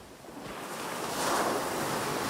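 Ocean waves wash at the sea, a broad rushing surf that swells toward the middle. The hiss is steady and moderately loud, with some wind noise and no voices.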